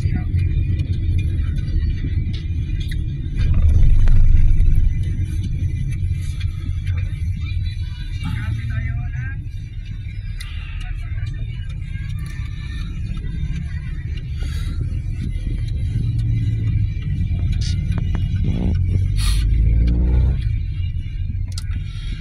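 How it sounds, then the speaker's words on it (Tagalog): Cars idle and creep along in a long traffic jam, a continuous low rumble of engines with occasional passing vehicles, heard from inside or beside the road under intermittent talk. "Traffic, the line so long."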